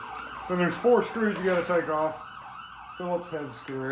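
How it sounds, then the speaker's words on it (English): An emergency vehicle siren passes outside, wailing in repeated rising and falling sweeps at moderate distance beneath someone talking nearby. "Sorry about the siren."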